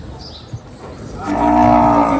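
Cows loosed from their shed give a loud, sustained moo that swells in partway through, after a quieter stretch of farmyard background.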